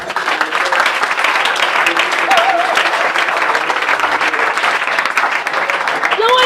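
A church congregation bursts into sustained applause, a dense, loud wash of clapping that holds steady throughout, with voices and cheers mixed into the crowd noise.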